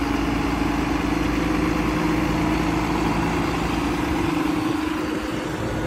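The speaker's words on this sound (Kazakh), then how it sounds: "Бул болсо John Deere 2014 трактор." A 2014 John Deere tractor engine idles steadily and loudly up close, with a constant low rumble and no break or change in pitch.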